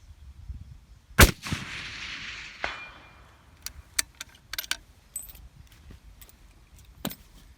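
Cadex rifle chambered in .308 Winchester firing a single sharp, loud shot, followed by a short echoing tail and scattered metallic clinks and rattles.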